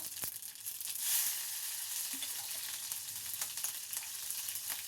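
Mustard seeds and green chillies fry in a little coconut oil in an iron kadai, a close, steady sizzle sprinkled with faint pops and a few light scrapes, no voices heard.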